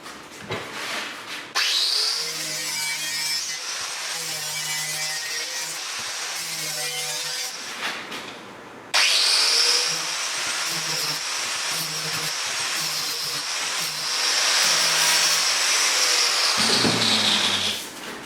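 A loud, steady mechanical grinding whine with a harsh hiss as corners and sharp edges are trimmed off 0.8mm sheet metal, running almost continuously with a brief break, close up.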